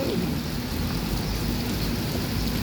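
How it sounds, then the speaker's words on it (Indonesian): Steady rain pours down at the Alang-Alang Lebar bus terminal, a dense continuous hiss of drops hitting surfaces, with a low rumble underneath and no voices. "Lagi hujan di terminal Alang-Alang Lebar."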